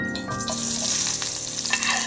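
Onion and garlic fry in about four spoons of hot oil in a pan, a brisk close sizzle with stirring scrapes over a brief stretch.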